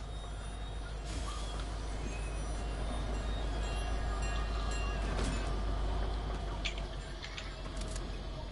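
A train rolls past in the Fortnite video game, a low steady rumble with scattered metallic clanks and squeals, fairly faint and continuous.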